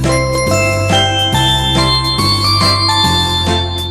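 Bright bell-like tones from a Lowrey electronic organ's bells voice play a steady melody with a repeating bass pattern, chiming notes changing about every half second.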